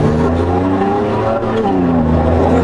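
A Kawasaki motorcycle racing in a Roblox game emits a loud, continuous engine whine whose pitch climbs and dips as it revs, staying close throughout.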